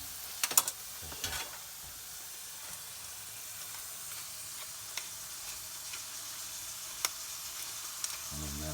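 Butterflied emu meat frying in a pan, a steady soft sizzle and hiss running throughout, with a few clinks and utensil taps near the start and end.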